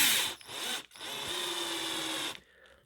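Power screwdriver driving screws into a 1/8 scale brushless RC buggy, two short whirring bursts followed by a longer steady whine, close and alone.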